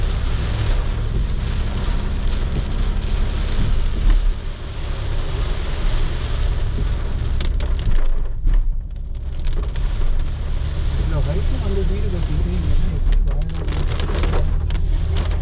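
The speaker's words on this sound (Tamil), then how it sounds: "Again மழை started." Heavy monsoon rain pours steadily in a forest in Munnar, a loud, dense, unbroken hiss with a low rumble of thunder beneath it and no talking.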